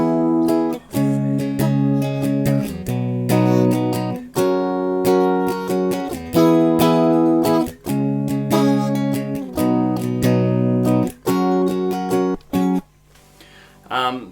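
A guitar plays the rhythm part of a song, strummed bar chords in choppy, rhythmic bursts with short muted gaps, close and loud, and it fades out at the end.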